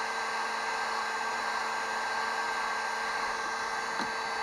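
A heat gun blows a steady, loud, unbroken hiss of hot air while heating a 2-inch PVC pipe to widen it around a 2x4, close up and without talk.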